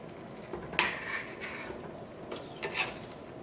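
Koottu in a pot is stirred with a spoon, giving a few soft scraping and clinking strokes against the pot, quiet and close with no talk.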